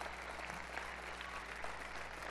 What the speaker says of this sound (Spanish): Venga, ese aplauso, hombre.